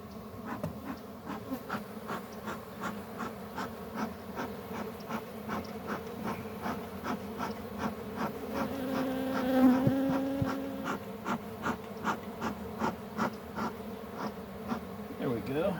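Honey bees buzz steadily around an open hive during a February inspection, a dense, close, continuous drone with wingbeat pulses rising and falling, with no talk over it.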